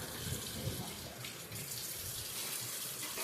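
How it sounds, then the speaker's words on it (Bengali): A tap runs steadily into a sink as a hilsa fish is washed after cleaning, a close, continuous hiss and splash with no talking. "ইলিশ মাছটাকে পরিষ্কার করে আমি ধুয়ে নিচ্ছি"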